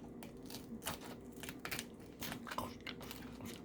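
Close, crisp crunching bites and chewing of crunchy pizza, a series of irregular crackly bursts, fairly quiet with no talking.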